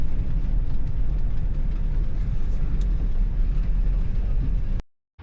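A 1955 Chevrolet 210 fitted with an LT1 engine out on a test drive. Its steady, rumbling road and engine noise runs continuously, then cuts off abruptly near the end.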